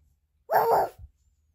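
A small child imitates a dog's bark, one short voiced woof lasting about half a second followed by a brief softer tail, close and clear against a quiet room.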